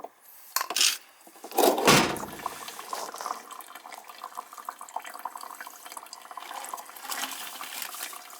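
Water drips and trickles into the drain pan of a leaking AC unit with a broken pan, a few sharp splashes early on followed by a faint continuous patter.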